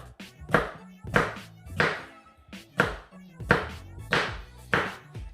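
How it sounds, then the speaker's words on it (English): A knife chopping watermelon rind into chunks on a cutting board, a steady run of about nine firm thunks at an even pace, close and clear, with no talking. "cut it into chunks"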